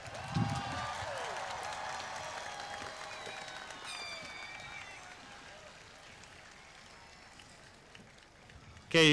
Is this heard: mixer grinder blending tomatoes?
no